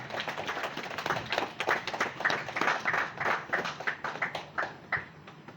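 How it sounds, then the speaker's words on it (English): Applause from a seminar audience welcoming a mentor to the stage, a thin scattering of hand claps with uneven rhythm, moderately close and steady for several seconds with no one speaking. "A round of applause for him, ladies and gentlemen."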